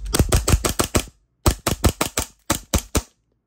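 Rapid bursts of sharp shots from an AW Custom HX2201 6-inch Hi-Capa airsoft pistol, a string of about six quick cracks, a pause, four more, then three, loud and close with no talk.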